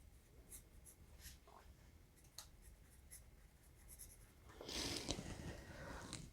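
A soft, very dark 10B graphite pencil scratches lightly across paper in short, faint strokes, with a brief louder rubbing burst near the end; no talking.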